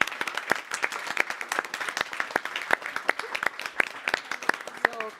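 An audience at the Quantum Future Award 2024 ceremony breaks into applause, a continuous spread of many hands clapping at moderate volume that stays even throughout, with no talk over it.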